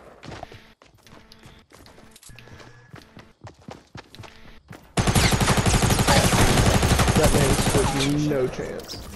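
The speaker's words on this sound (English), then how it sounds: "He's shooting from the west." Sharp taps like footsteps start sparse and quiet in a Fortnite match, then dense, loud gunfire bursts in halfway through and keeps going as a sustained barrage.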